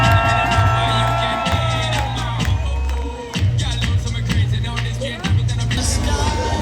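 A crowd at a Paris 2024 Olympic venue roars and whoops steadily across the whole stretch, with a pulsing DJ beat thumping underneath and brief dips in the noise.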